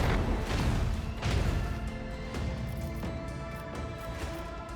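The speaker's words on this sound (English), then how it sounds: "Macro cannons, volley!" Macro cannons firing a volley in the Warhammer 40K: Rogue Trader video game, a series of heavy booming impacts over a continuous rumbling game soundtrack, fairly loud with no talk.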